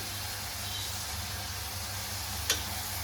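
Coriander stems sauté in a pan for butter chicken masala, giving a soft, steady sizzle with a low hum underneath and a single brief clink near the end.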